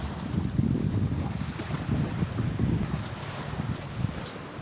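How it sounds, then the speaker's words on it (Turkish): At Kuzu Limanı, a Gökçeada ferry draws near as buffeting wind blows across the microphone over a low, continuous rumble of the ship and water. "tüm heybetiyle Gökçeada bir gemimiz de iyice yaklaştı"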